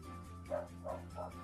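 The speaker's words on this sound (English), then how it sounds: "Again, I apologize for the dog." A dog barking indoors in the same room, three short muffled barks spaced evenly, moderately loud over a low background hum.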